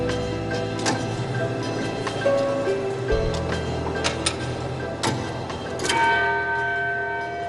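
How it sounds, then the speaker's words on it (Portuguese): A church clock tower bell rings the hour, several loud metallic strikes with long ringing decay spaced about a second apart, layered over a faint background hum. "Simplesmente fazer com que o sino tocasse a cada hora."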